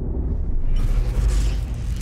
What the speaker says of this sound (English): we have a cool kind of riser going on here, but it's not enough